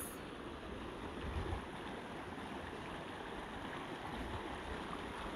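A river flows along a bank of white stones, a faint, steady rushing wash that holds evenly throughout with no voices.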